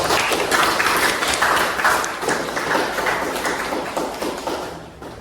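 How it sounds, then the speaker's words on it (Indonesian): A university lecture audience applauds at the close of a class session, with dense, continuous clapping that stays loud for several seconds before thinning out at the end. "Ya, tepuk tangan untuk kita semua."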